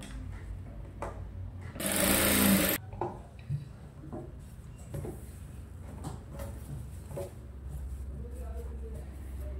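A sewing machine stitches the shoulder seam of a size 32–34 princess-cut blouse in one short, loud run of about a second, amid quieter handling clicks and shuffles before and after.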